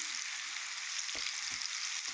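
Potatoes fry in a pan over high heat, a dense, steady sizzle and crackle with a few soft clicks of stirring, close and continuous without any voices.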